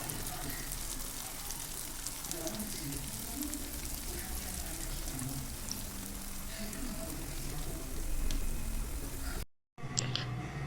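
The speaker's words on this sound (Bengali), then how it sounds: "এবারে আমি কড়াতে তেল গরম করে নিয়েছি এবারে ভেজে নিচ্ছি" Potato smiley snacks frying in hot oil in a wok, giving a steady, dense sizzle and crackle that runs close and continuous with no talking, before a brief cut near the end.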